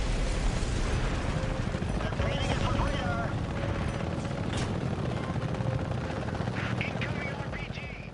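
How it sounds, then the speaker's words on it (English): An Apache tandem-seat attack helicopter in the video game Apache: Air Assault, its rotor thudding steadily under bursts of gunfire and mechanical clatter, with a voice talking over it. "Now the Apache is a tandem seat helicopter for a crew of 2 pilots."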